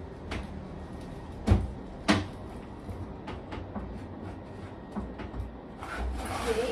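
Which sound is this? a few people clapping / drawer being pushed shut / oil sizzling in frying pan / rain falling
drawer being pushed shut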